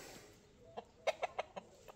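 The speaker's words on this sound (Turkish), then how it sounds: "Bu horoz çok cins bir horoz biliyor musunuz?" An Arab breed rooster clucks in a quick series of four or five short calls, close by, over quiet village outdoor background in Güzelyurt, Aksaray, Turkey.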